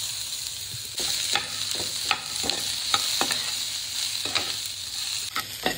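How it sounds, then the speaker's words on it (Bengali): Diced potatoes and onions fry in a small amount of oil in a pan, giving a soft, steady sizzle broken by repeated scraping stirs of a spoon, close and moderately loud, with no talking. "দেখেন এখানে কিন্তু আমার আলুটা ভাজা হচ্ছে।"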